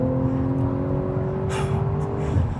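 An Audi S4 under full throttle, heard from inside as a steady, loud engine drone with a sustained whine that holds, then drops off near the end.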